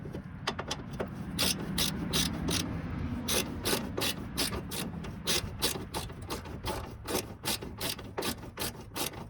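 A ratchet wrench clicks while bolts are tightened on the upper fender bracket of a 7th-generation Nissan Maxima, quiet bursts of rapid pawl clicks in several runs with short pauses, close by and without talk.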